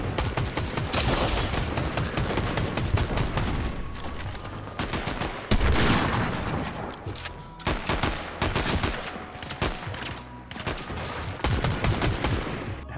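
Gunfire in a Fortnite Zero Build match, including a sniper rifle, heard as near-continuous loud, rapid shots and impacts with a few short pauses.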